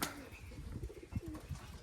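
Pigeons nearby, giving soft, low, throaty coos in short repeated pulses, faint and close with no talk.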